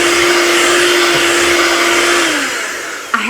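An electric kitchen mixer whirs at a steady high pitch, loud and close, then winds down and stops near the end with a small clunk.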